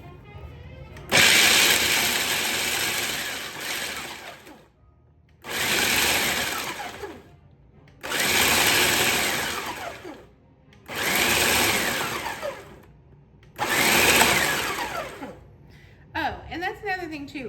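Shelled pistachios ground in a grinder, five loud whirring bursts of a few seconds each separated by short pauses, ending with a faint rattle; no talking over the grinding.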